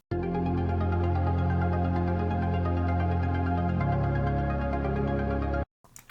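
Metal song first verse built on a dreamy synth pad with a filtered cutoff, playing as a dense, sustained wash of harmonic layers that shifts chord midway and cuts off abruptly near the end, with no voices.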